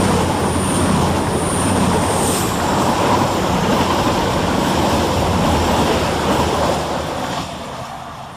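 Cross Country units 220034 and 220013 pass through Woodhouse station on a Bristol Temple Meads to Edinburgh Waverley service, a loud, steady, close rushing roar that holds for several seconds and then begins to fade.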